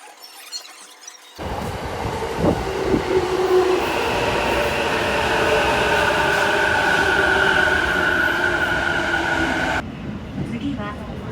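A Tokyo Metro Chiyoda Line subway train runs with a loud, sustained roar and a high metallic wheel squeal that holds through the middle, starting and ending abruptly, with a recorded voice heard at the edges.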